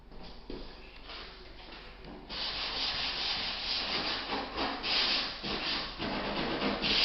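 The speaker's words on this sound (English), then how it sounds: "I flip door to another side to sand the edges" The edges of an interior door are sanded with steady, close, abrasive rubbing strokes, a continuous rough hiss that rises in intensity after the first couple of seconds, with no talk.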